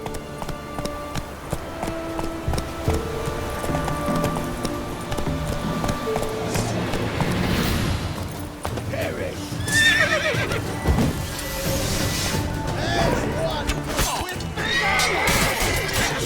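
Roach, Geralt's horse in The Witcher 3 video game, neighs and whinnies repeatedly over steady galloping hoofbeats amid dense game music and ambience, loud and continuous throughout.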